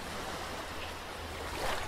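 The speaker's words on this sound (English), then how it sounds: "Look at the waves." Ocean waves wash onto a beach in the VR game The Shore, a steady, fairly loud surf hiss that swells slightly near the end, with no talking.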